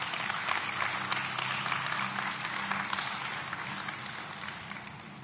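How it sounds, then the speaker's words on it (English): Sustained crowd applause at a Memorial Day ceremony aboard the Intrepid, a dense patter of many hands clapping at once, slowly tapering off in a large reverberant space. "Let's give him another round of applause and thank him."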